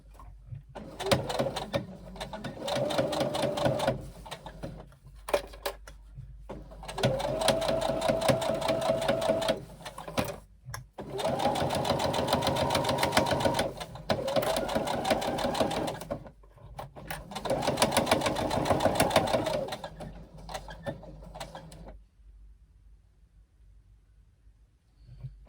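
A sewing machine stitching a seam on a wristlet runs in several bursts of rapid, rhythmic needle clatter, each lasting a few seconds with short pauses between, close and clear with no talk.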